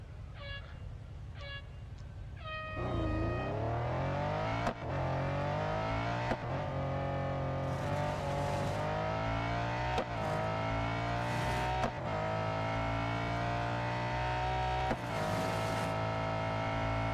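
A race car lapping part of the Nürburgring in the mobile racing game Real Racing 3, its engine droning steadily at high revs with repeated gear-shift dips and rising pitch, loud and continuous after a short intro of beeps.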